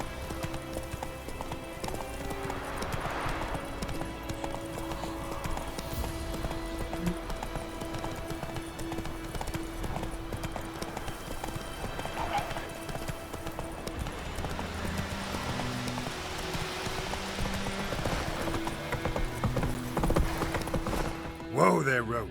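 Roach the horse in The Witcher 3 clip-clopping steadily along, a continuous fast rhythm of hoof strikes under music and ambient noise, with voices speaking intermittently over it.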